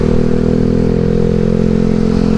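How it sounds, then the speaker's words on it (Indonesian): A 2013 Yamaha Xeon RC motorcycle rides along at steady speed, its engine a continuous loud drone with a rough low rumble and a slight clattering edge, heard alone without talk. "saking pertama kali naik motor lewat sini"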